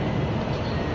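Engine of a goods train passing near Gudur railway station, a loud close steady rumbling roar over the whole second.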